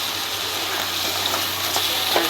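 Fish heads sizzle and sputter as they fry in oil in a pan, a steady dense crackle close to the microphone with no talk.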